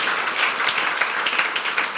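A church congregation claps for Jesus, a dense, steady wash of many hands that stays loud and continuous throughout, with no speech over it.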